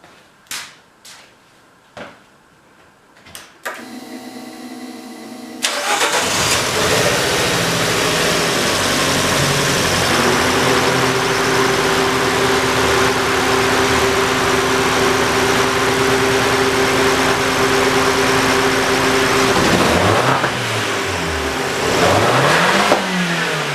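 A turbo-swapped Fiat X19 Abarth engine turns over and catches after a few sharp cranking knocks, then settles into a steady, loud, close idle with a rising whine, and ends with a couple of brief revs.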